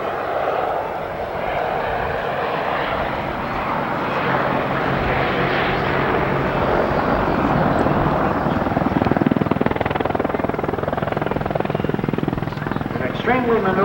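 An AH-64 Apache attack helicopter flies at an airshow, a continuous loud rotor and engine roar that swells slightly over the span, with crowd or announcer sound mixed in underneath.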